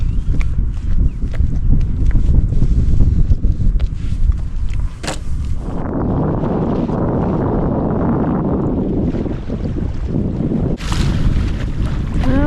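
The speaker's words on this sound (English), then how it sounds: "Just out for a little evening sail. It's about 7 to 9 knots of wind" A sailboat moves through a 7 to 9 knot evening breeze, heavy wind buffeting and rushing water dominating throughout, with a shift to a smoother wash midway.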